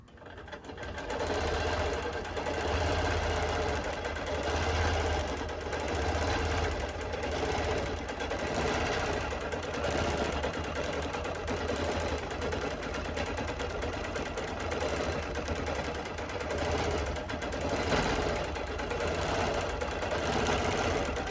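A longarm quilting machine stitches an edge-to-edge row across a customer-pieced quilt, its steady rapid needle chatter running loud and continuous from start to finish with no voices.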